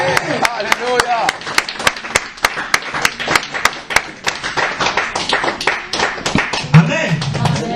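Church congregation clapping in a quick, steady rhythm with sharp close claps throughout, singing and voices carrying underneath during worship.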